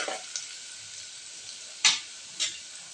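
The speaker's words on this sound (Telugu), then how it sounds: "ఒక 3-4 ఎండుమిరపకాయలు, ఇవన్నీ వేసి బాగా కలపండి. కొంచెం గోల్డెన్ బ్రౌన్ కలర్ వచ్చేదాకా కలపండి." Small onions and a few dried red chillies sizzle steadily in a pan, with a couple of sharp scraping stirs of the spoon standing out above the constant frying hiss.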